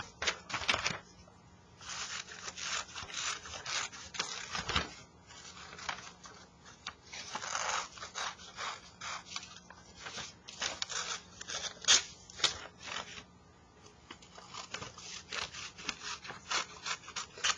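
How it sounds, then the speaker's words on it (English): Magazine paper is cut and torn by hand, steady rasping, rubbing strokes and crackly rips repeating in close, fairly loud bursts with brief pauses between them. "I'm going to cut just what I want out of the page."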